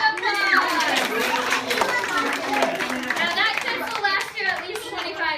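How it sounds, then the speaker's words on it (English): Children in a library audience clap together for a crocodile handler's show, a dense burst of small hands applauding with kids' voices chattering and calling out over it throughout. "Alright, everyone give him a round of applause."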